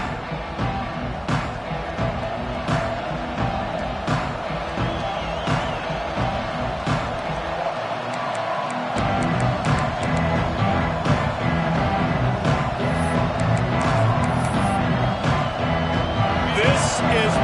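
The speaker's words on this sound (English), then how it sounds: "This crowd ready to make its presence known." A football stadium crowd keeps up a steady roar of cheering and whoops that swells slightly in the second half, with a play-by-play commentator talking over it throughout.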